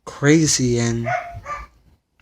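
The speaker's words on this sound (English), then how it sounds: "that's my dog barking." A pet dog barks in a few sharp, loud yaps close by, mixed in with a person talking over and around the barks.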